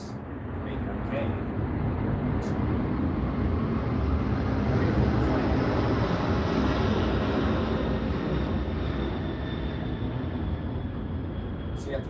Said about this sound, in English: You have to wait for the plane to go past